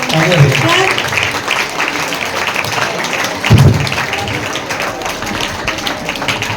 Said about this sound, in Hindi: तालियों की आवाज नहीं रुकनी चाहिए।